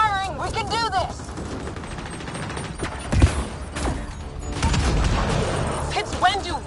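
Rapid bursts of gunfire ring out in the Mass Effect Andromeda video game, loud sustained volleys of shots and thumps mixed with music and shouted voices over the fight.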